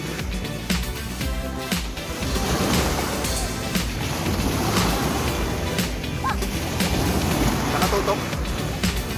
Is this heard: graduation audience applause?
no